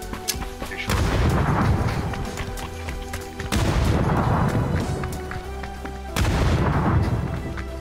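Three loud, booming grenade explosions in PUBG, evenly spaced, each a heavy blast followed by a rumbling decay.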